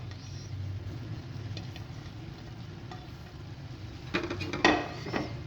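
Chicken fried rice with chopped fried egg being stirred in a pan: a low steady sizzle, then a few sharp clinks and scrapes of a utensil against the pan near the end, close and fairly quiet.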